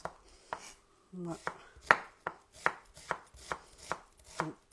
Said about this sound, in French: commencer par les oignons. On va couper finement et en petits morceaux.